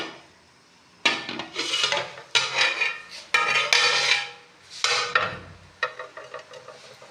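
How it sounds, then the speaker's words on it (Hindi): Soaked chana dal goes into a pot of boiling water, with a string of clattering scrapes and splashy stirring strokes against the metal pot, close and fairly loud. "इस पर अब डालेंगे दाल।"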